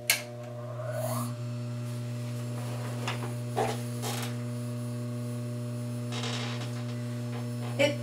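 An industrial sewing machine motor runs with its bobbin winder engaged, giving a steady mains-like hum throughout with a few faint rubbing and clicking touches over the top.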